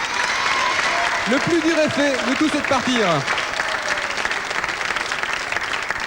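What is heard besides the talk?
audience applause for the team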